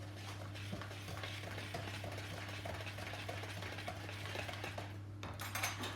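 Homemade buttermilk stirred into cocoa powder in a bowl for a red velvet cake: a spoon scrapes and taps the bowl in quick, steady strokes over a constant low electrical hum, with a brief clatter near the end.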